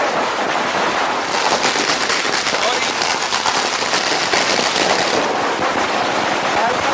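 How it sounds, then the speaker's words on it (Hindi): Dense, rapid crackling of firecrackers bursting in a continuous loud barrage during Diwali celebrations, with a voice briefly heard over the noise. "पटाखे की दिवाली है, पटाखे का शोर है।"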